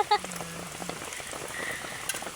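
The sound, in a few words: rain falling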